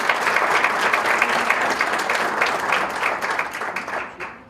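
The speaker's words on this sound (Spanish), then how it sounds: "Un fuerte aplauso, por favor" A burst of loud applause from a crowd, sustained clapping that tapers off toward the end.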